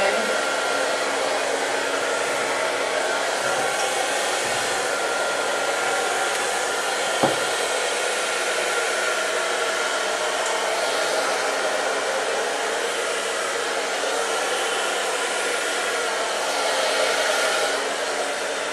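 A hair dryer blows continuously, a loud, steady airy roar that runs unbroken throughout.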